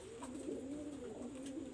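Pakistani high-flyer pigeons coo in a soft, continuous, rolling murmur, steady and fairly faint throughout with no voices.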